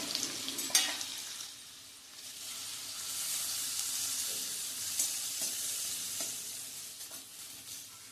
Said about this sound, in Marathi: ह्यामध्ये मी घालते बारीक चिरलेला कोबी